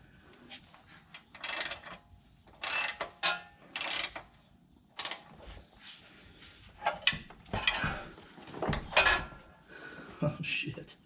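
Bolts on a 1967 Ford truck transmission are loosened with a wrench, giving repeated short bursts of close metallic ratcheting and clanking between pauses, with faint speech.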